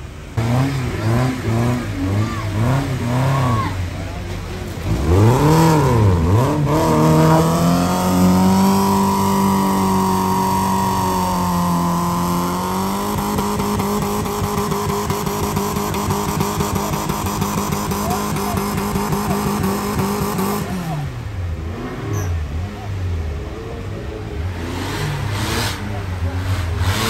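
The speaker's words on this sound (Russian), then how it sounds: "Очень хорошо работает мотор." An off-road race car engine revs up hard and holds a loud, sustained high drone for about fifteen seconds before dropping back, heard close amid background chatter.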